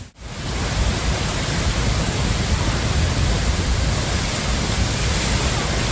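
Horseshoe Falls at Niagara Falls, 681,750 gallons per second, roaring as a loud, steady broadband wash of falling water heard from close by, with no one talking.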